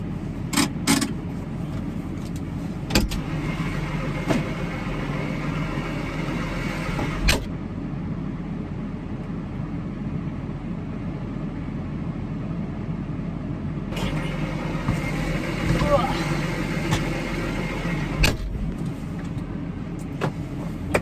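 A steady low tractor engine drone and rumble fills the space from inside the enclosed cab, with occasional clicks and knocks over the continuous hum.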